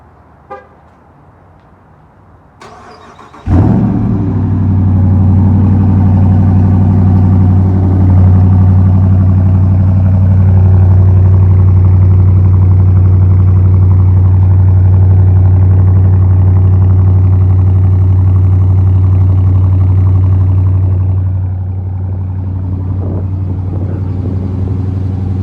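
A 2017 Dodge Charger Daytona with a straight-pipe exhaust fires up from cold after a click and starter crank, then settles into a loud, deep, steady rumbling idle that drops slightly in level near the end.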